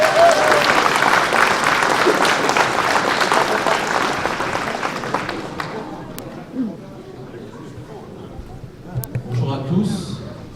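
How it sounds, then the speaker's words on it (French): Audience applause for the technicians at a Saturday charity event, loud and dense for about six seconds, then thinning to scattered claps as people begin talking. "On peut les applaudir"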